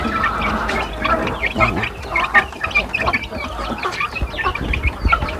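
Three young chickens hatched in an incubator, now grown, cluck and chirp busily and almost without pause at close range, their calls overlapping above a low background rumble.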